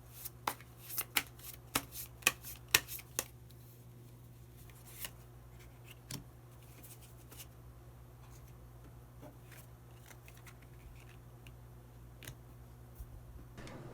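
Tarot cards are shuffled and drawn, opening with a quick series of sharp card flicks and snaps, then settling into quieter, sparse card handling against a faint steady hum.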